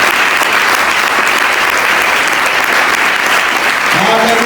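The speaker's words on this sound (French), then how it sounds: "Est-ce que tu peux aussi acclamer?" A church congregation applauds during a worship service, a loud, continuous wash of clapping from many hands, with voices rising near the end.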